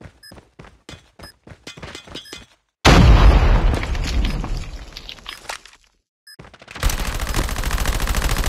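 Gunfire and a planted bomb going off in a competitive round-based shooter video game: a string of sharp, spaced shots, then a loud, close explosion that roars and slowly decays, a brief pause, and another dense burst of noisy blast.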